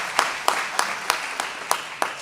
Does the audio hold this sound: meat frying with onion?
no